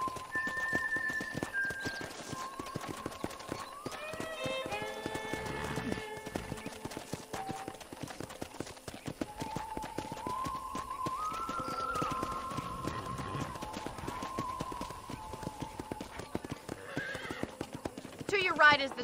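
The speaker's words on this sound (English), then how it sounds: "let's see if you can still ride a horse" Horse hooves clip-clopping at a steady pace with whinnies in the video game Red Dead Redemption, under music and spoken dialogue throughout, with a louder hoof flurry near the end.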